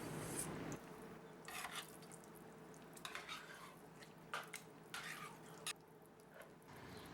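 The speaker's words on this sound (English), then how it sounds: "for a little sweetness, we also mix in a can of peas" A spoon stirs canned peas into hamburger gravy in a cast iron pan, giving soft scraping and wet, sloppy churning in uneven bursts, fairly close and quiet, with a faint steady background hum.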